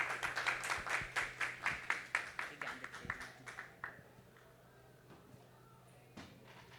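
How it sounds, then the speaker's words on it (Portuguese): An audience claps for a speaker at a civic tourism event in Brasília about the National Congress. The applause is brisk and fairly close, then it thins out and fades into near quiet with a few stray claps. "Uma salva de palmas, por favor."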